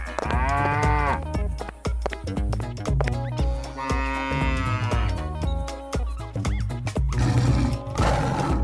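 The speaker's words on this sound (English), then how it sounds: "Cow." A cow moos loudly and repeatedly against a busy background of music, with several long, drawn-out calls and no talking.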